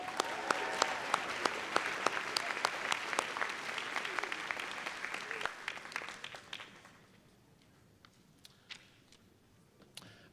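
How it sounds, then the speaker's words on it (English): An audience applauding graduates at the 2019 KGI commencement, dense clapping for about six seconds that then thins to a few scattered claps. "All right, let's give them a round of applause."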